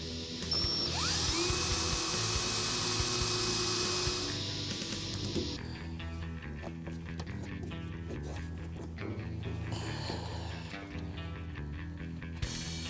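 Power drill used while fitting a beltline weatherstrip kit with staples on a 1965-1966 Ford Mustang, a loud high whine running steadily for about four seconds and then winding down, followed by quieter clicking and handling noise.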